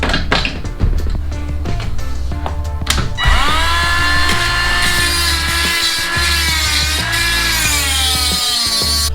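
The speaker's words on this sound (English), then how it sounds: "I'm just going to use this die grinder, clean up that weld slag" A die grinder grinds weld slag out of a Yasuni Z exhaust pipe: a few knocks and clunks, then the tool spins up into a loud, steady, high-pitched whine that holds close and continuous to the end.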